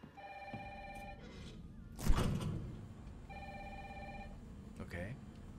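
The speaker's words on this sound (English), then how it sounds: "Phone's ringing." A telephone rings in the Resident Evil 3 remake game intro, two bursts of electronic trilling ring with a loud thump between them over a low ambient background.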